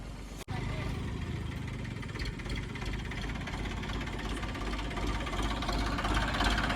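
A tractor engine strains while pulling down a peepal tree, a loud steady rumbling drone with rough knocking vibration that holds throughout after a brief sharp cut near the start.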